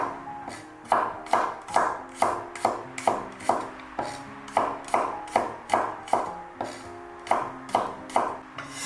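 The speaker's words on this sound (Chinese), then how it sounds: "几个蒜子切成薄片" A knife slices garlic cloves into thin slices on a cutting board, giving a steady series of close, crisp chops at an even rhythm, with a brief pause partway through.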